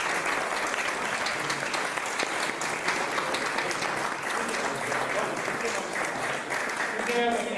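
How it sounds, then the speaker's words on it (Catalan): Audience applause at a Catalan poetry book launch, steady and sustained across the whole stretch, with a few voices mixed into the clapping. "que ens mereix un aplaudiment"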